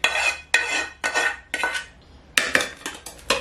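A spoon stirs food in a metal pot: roughly seven sharp scraping, clinking strokes come in bursts with short pauses between them, close and clear, with no voices.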